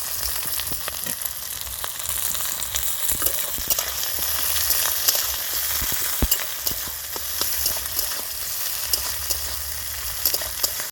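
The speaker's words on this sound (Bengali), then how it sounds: "ফোড়ন, পেঁয়াজ, কাঁচা লঙ্কা খুব ভালো করে ভেজে নিয়েছি" Chopped onion and green chillies frying in a pan over a nigella seed tempering, with a steady loud sizzle and occasional clinks and scrapes of stirring.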